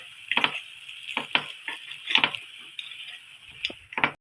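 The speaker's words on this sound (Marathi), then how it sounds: "आपल्याला याच्यामध्ये सगळे पलटून घ्यायचे आहेत" Rava and curd appe being turned one by one in an appe pan, giving a run of light metallic taps and scrapes at an irregular pace over a faint sizzle, close and fairly quiet.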